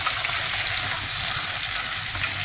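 Garlic frying in a clay pot, a loud, dense, continuous sizzle and crackle of hot oil that stays steady throughout, with no voices over it.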